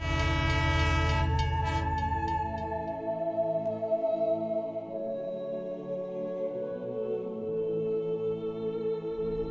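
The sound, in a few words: train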